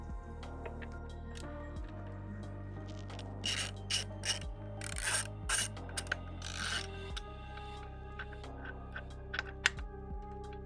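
Ratchet wrench turning T45 Torx bolts while removing the grab handles and luggage plate on a 2024 KTM 1290 Super Adventure R motorcycle, close, quiet rapid clicking in several short runs with small metallic handling noises.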